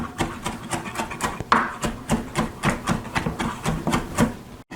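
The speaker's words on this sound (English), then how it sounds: "Just give it a rough chop because it's going to be blended." A knife roughly chopping parsley on a cutting board, with a rapid series of sharp, close knocks at a fairly even rhythm and no talk.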